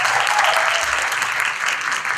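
An audience claps for Lahore Qalandars owner and CEO Atif Rana at a cricket panel event, a dense, even wash of applause filling the room throughout.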